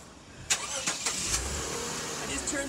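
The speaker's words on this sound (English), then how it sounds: "I just turned the engine on. There you go. Engine start." A Toyota Mark X started with a push button, the engine catching and settling into a steady idle close by, heard with a voice talking over it.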